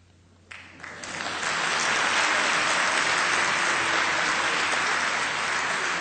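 Applause at a conference closing session starts with a few scattered claps, then swells within about a second into loud, sustained clapping from a large audience that holds steady to the end.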